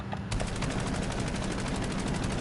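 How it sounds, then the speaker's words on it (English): A machine gun fires in a fast continuous stream in Call of Duty Black Ops 7, using a nearly bare weapon with only an optic attached. The shots are loud and steady, with no talking. "This is how your gun is going to shoot every single time."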